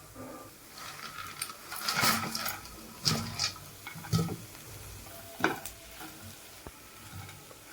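Fried potatoes and peanuts stirred through masala spices in a frying pan for a poha breakfast, with a steady soft sizzle and repeated scraping stir strokes close by, no voices.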